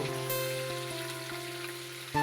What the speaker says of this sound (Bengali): এই যে ভাজা চলছে মাছের মাথা